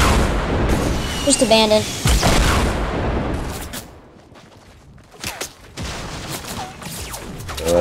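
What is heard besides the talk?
rocket explosions in a video game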